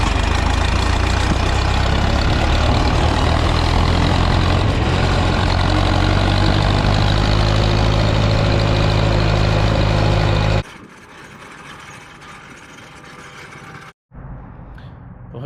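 A John Deere 3010 tractor engine runs loud and steady close by for about ten seconds, then drops abruptly to a quieter idle with a brief cut near the end, as if shifting between gears.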